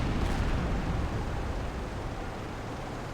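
A submarine deck gun fires at an enemy ship in the Silent Hunter 4 naval game, a heavy boom rolling into a sustained low rumble that slowly fades.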